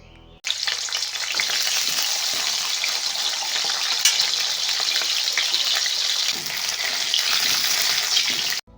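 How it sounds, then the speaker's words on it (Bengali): Chopped potatoes frying in hot oil in a wok, a steady loud sizzle with crackling and occasional stirring, alone without talk throughout. "তেল দিয়ে কেটে রাখা আলু ভেজে নিতে হবে।"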